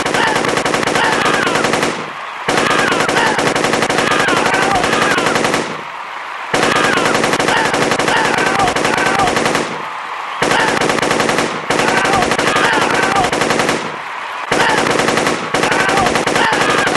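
Rapid machine-gun bursts from The Dictator Wadiyan Games on iPad rattle loudly in long sustained volleys, separated by several brief silent pauses.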